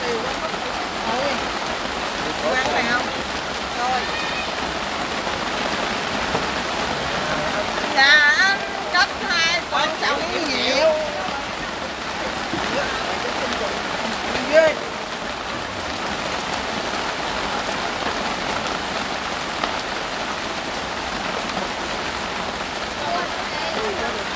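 Steady rain falls outdoors in a steady broadband hiss, with family members chatting quietly underneath and a few brief clatters partway through.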